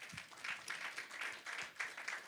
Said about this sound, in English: I just want to give a round of applause to the Mediapost team